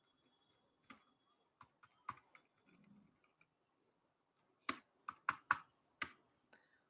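Keys clicking on a computer keyboard while editing Python code, a sparse scatter of single presses followed by a quicker cluster of sharp clicks, close and quiet with near silence between them.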